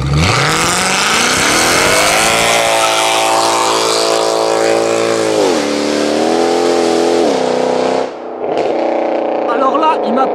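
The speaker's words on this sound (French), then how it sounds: "on va ouvrir les valves de la C63, il va nous refaire un beau départ" A Mercedes C63 AMG revs hard with its exhaust valves open, launching into a burnout: a loud, close engine roar climbing in pitch, holding, dipping twice, then cutting out abruptly before a brief burst returns, with people talking.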